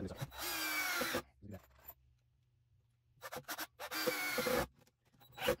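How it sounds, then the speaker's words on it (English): A power drill driving decking screws into a wooden back board, two short whirring bursts separated by quiet gaps, with faint knocks and handling sounds between. "I'm just zigging and zagging the screws so there's no common grain line in that back board"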